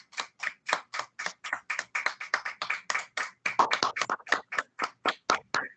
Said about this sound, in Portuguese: E a Jesus as nossas palmas.